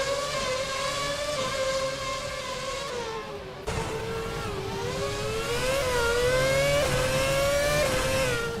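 A 2009 Ferrari F60 race car engine in a racing video game holds a high, steady whine that rises and falls with revs and briefly cuts at a gear change, loud and close throughout.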